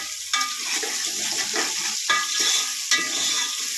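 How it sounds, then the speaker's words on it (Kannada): Oil sizzles steadily in a pan as spices and soya are fried and stirred for a mutton-style soya sambar, with a few louder scraping strokes of the spoon cutting through the continuous frying hiss; no one speaks. "ಎಣ್ಣೆಲಿ ಚೆನ್ನಾಗಿ ಫ್ರೈ ಆದಷ್ಟು ತುಂಬ ಟೇಸ್ಟ್ ಕೊಡುತ್ತೆ"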